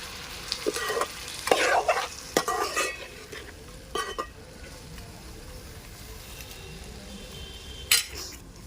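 Moong dal is stirred in a little hot oil, with loud, close scraping strokes in bursts over a low frying sizzle that continues between strokes; no one speaks.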